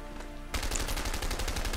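Rapid gunfire in the video game A Way Out, a fast burst of repeated shots bursting in after a brief quieter moment, loud and close.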